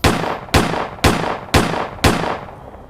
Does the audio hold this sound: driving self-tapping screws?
no